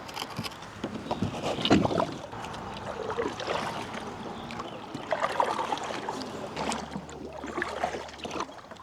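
Paddle strokes splash and drip as a boat moves along a river during musky fishing, with water trickling and gentle knocks close by and no speech.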